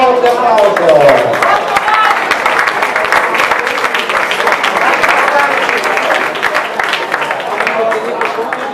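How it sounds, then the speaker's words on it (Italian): Loud, sustained audience applause filling the whole stretch, dense clapping from a large crowd at a boxing bout in San Giovanni Lupatoto, with cheering voices mixed in. "E un forte applauso."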